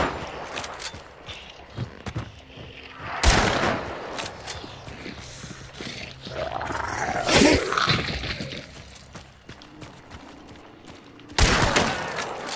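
Gunshots ring out in the shooter Hunt Showdown, with a few loud, sharp reports spaced several seconds apart against quieter ambient sound and light movement.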